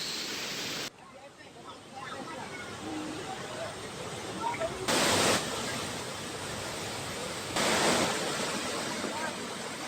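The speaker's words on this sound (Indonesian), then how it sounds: "Luapan air sungai Cipunagara di Kecamatan Pamanukan, Subang, Jawa Barat telah merendam ribuan rumah yang berada di bantaran sungai." Overflowing floodwater of the Cipunagara river in Pamanukan, Subang, West Java roars as a steady broadband rush, loud and continuous, with a couple of surging swells.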